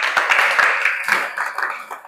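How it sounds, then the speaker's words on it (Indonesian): A classroom of junior high students gives a brief round of light, scattered hand clapping that lasts about two seconds and then tapers off. "Tepuk tangan dulu"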